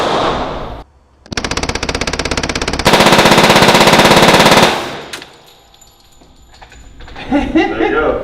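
A Thompson submachine gun fires in long, rapid automatic bursts, loud and close, first one burst and then a denser continuous one, followed by quieter sounds and a voice at the end.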